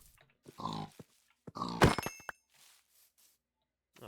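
A pig grunts and oinks in a survival video game, a few short close snorting bursts separated by silence, with a brief squeal in the middle.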